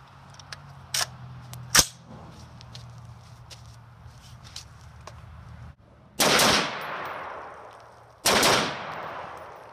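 Rifle shots from an AR-pattern rifle fitted with a Tac Con 3MR trigger, fired outdoors: a few sharp cracks early on, then two loud, close double-tap bursts with a ringing tail.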